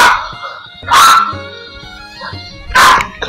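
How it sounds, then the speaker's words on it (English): A puppy lets out two loud, sharp barks about two seconds apart, close to the microphone, with quieter yips and whimpers between them. "My puppy's being a puppy."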